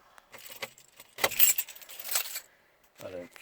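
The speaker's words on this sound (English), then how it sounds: "Can you just pull the keys out of the ignition" Car keys jangle as they are pulled from the ignition of a Volvo C70 during instrument binnacle removal, a few close metallic rattling bursts, with a person speaking briefly near the end.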